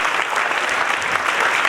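Loud, dense audience applause for child performers after a social drama staged at a cultural event, steady clapping throughout with no speech.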